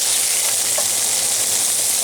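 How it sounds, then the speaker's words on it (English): Loud, continuous sizzling of sausages stir-frying in a hot cast iron skillet, a dense steady crackle with no voices. "This kind of stir frying is actually a lot of fun"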